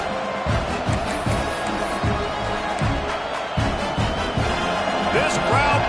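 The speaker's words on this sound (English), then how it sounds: "This crowd bringing the energy and noise early." A large college football stadium crowd roars and cheers continuously, with an announcer talking over the noise.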